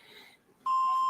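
A voicemail beep tone sounds as a single steady electronic pitch, loud and close, cutting in sharply after a moment of faint talk-like murmur and holding to the end.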